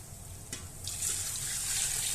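Water starts flowing after a brief clink and pours steadily into a pot with a continuous splashing hiss, close up.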